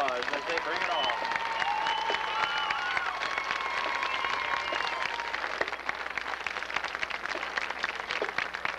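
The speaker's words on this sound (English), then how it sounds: "Let's give them a big round of applause as they bring it off." Crowd applause after a high school marching band performance at an outdoor band competition: steady, dense clapping that continues throughout, with cheering voices and speech mixed in.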